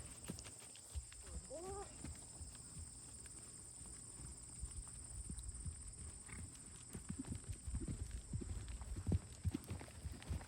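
A horse in training trots on a soft surface, a quick run of rhythmic hoofbeats that grows louder and closer toward the end, while a rider speaks quietly in French and the horse snorts once.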